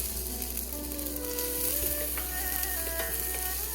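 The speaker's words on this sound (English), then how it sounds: "Saute this for a while" Chopped onions and green chilies sauté in hot oil in a pan for chicken fried rice, giving a steady close sizzle throughout with faint stirring scrapes and no voices.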